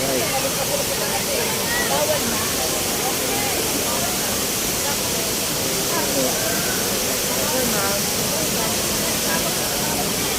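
Waterfall at Bulinaw roaring in a steady, dense broadband rush throughout, loud and close, with voices faintly mixed into the background.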